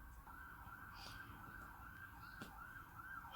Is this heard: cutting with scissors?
no